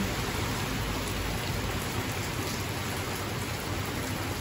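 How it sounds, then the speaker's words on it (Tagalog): Heavy typhoon rain pours down in a steady, dense roar of hissing noise. It is loud and unbroken throughout, with no voices. "Pero ngayon, ayan na. Malakas na ang ulan niya."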